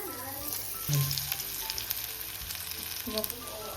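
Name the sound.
paneer burger patty frying in hot oil in a pan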